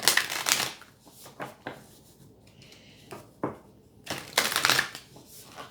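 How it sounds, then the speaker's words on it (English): Light worker oracle cards being shuffled by hand, with several bursts of riffling and flicking separated by short quiet gaps. The sound is close and moderately loud, and no one speaks. "So I'm actually going to pull some light worker cards just to get some energy going here."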